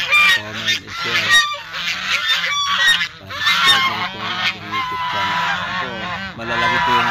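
A flock of geese honk loudly and continuously nearby, overlapping calls forming a noisy, raucous chorus.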